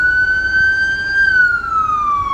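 Ambulance siren wailing in city traffic in Jersey City, a loud steady tone slowly sliding lower in pitch over a low rumble of road noise.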